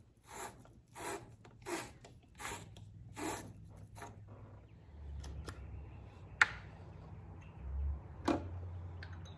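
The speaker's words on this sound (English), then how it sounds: "I'm going to use the old scraper here." Metal scraper rasping corrosion off the battery terminals of a 1989 Mustang GT 5.0, heard as a run of distinct scraping strokes early on, then sparser clicks and knocks close by, with no talk.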